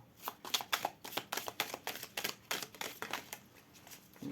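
Tarot cards are shuffled close up in a rapid series of crisp riffling snaps and slaps. The rhythm runs steadily for several seconds and then eases off near the end.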